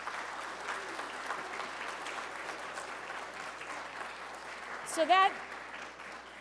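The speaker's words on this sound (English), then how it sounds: "Please join me in a round of applause for all these wonderful speakers" Fairly quiet, distant applause for speakers at a university graduate talks event, a steady wash of clapping throughout, with a brief voice cutting in near the end.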